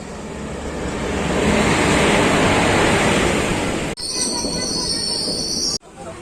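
A train at Renigunta Junction railway station gives off a loud, sustained roar of wheels on rails, with shrill metallic wheel squeal rising near the end before cutting off abruptly.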